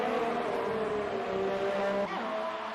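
Formula 1 cars roar in a racing video game, a sustained high engine whine that shifts pitch as a Ferrari closes in, then a sharp downshift and drop in revs near the end.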